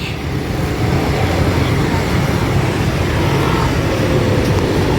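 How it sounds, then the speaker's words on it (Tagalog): Heavy road traffic during a jeepney transport group rally in the Philippines, a dense, loud, constant rumble of engines with low droning motors and no break in the noise. "Grabe ng traffic."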